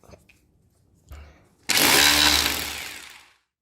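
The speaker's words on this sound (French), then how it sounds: "Et après en mode perçage" A power drill bores into material during drywall and electrical wiring installation, a loud whirring burst of about a second and a half that fades out, preceded by quieter handling noises.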